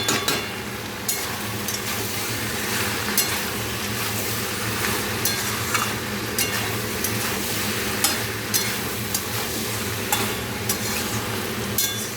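Food sautéing briefly in a pan makes a continuous sizzle with steady stirring and scraping, and occasional spoon clinks against the metal, with no talking.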